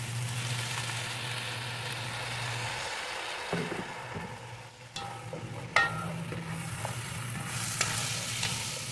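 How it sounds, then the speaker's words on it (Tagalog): Fish sauce splashes into a pan of sautéed mung beans, with steady sizzling and stirring up close and a few light clinks of a utensil against the pan, no talking. "Lagyan natin ng 2 kutsarang patis"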